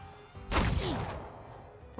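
A gunshot in the video game The Thaumaturge: a single loud, sharp broadband blast half a second in, followed by a ringing tail that fades over the next second.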